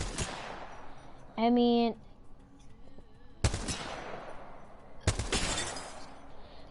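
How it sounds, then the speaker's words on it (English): Video game gunfire from a G7 Scout rifle with the double tap, heard as two sharp, loud bursts spaced well apart, with a short tonal electronic sound between them and brief talk nearby. "Now we're gonna put the double tap on these G7 Scout, one of my favorite weapons."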